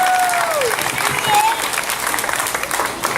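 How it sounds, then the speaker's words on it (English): Audience applause at a teen singing competition honoring an Air National Guard serviceman, dense steady clapping throughout with a few whistles rising above it, fairly loud and close. "Give them a round of applause"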